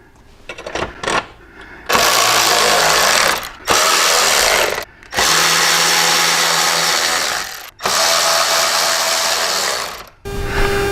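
Power drill driving screws into a chrome contrast-cut speaker grill, several loud whirring bursts of a few seconds each separated by brief pauses, close by and with no talking.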